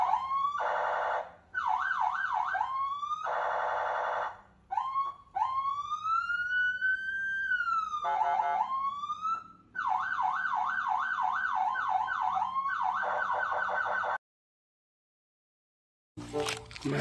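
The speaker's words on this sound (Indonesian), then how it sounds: "ini ada pemadam kebakaran teman-teman" A loud electronic fire truck siren cycles through wailing, rapid yelping and warbling tones, with brief breaks, then cuts out before a short burst returns.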